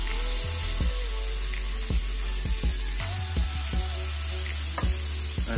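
A steak dropped into a hot pan set to about 250 to 300 degrees sizzles steadily with a dense, continuous hiss, broken by a few sharp clicks and knocks of utensils near the pan.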